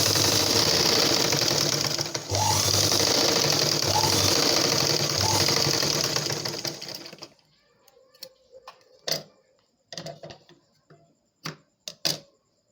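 A sewing machine runs loudly and continuously while stitching a blouse, then stops, leaving a few sharp clicks and handling knocks at close range.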